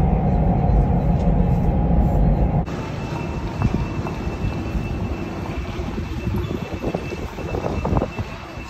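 A high-speed train rolls out of a station in China with a low rumble and rising mechanical hum, wheels clattering and a faint high whine building as it gathers speed.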